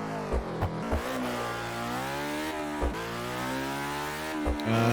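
A car engine in the video game Classic Racers revs up and down in long rising and falling sweeps with brief gear-change dips, loud and continuous.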